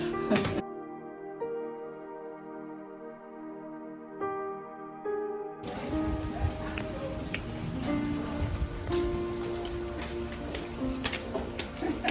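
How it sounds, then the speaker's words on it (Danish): Steady rain falls during a mountain hike above Levanto in Liguria, a dense patter with scattered drops and ticks over a continuous wash. It drops out briefly to a quieter tonal passage before the full rain resumes. "Det er jo ikke holdt op med at regne, desværre."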